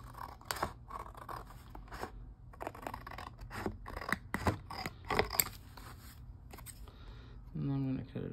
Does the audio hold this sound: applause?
no